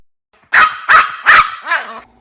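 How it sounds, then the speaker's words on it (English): A dog named Toby yelps and barks four times in quick succession, sharp, close and loud, with the last cry trailing off into a softer whine, with nothing else heard. "with a triumphant yelp, Toby sprang upon a large barrel"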